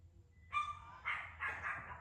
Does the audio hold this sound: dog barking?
yes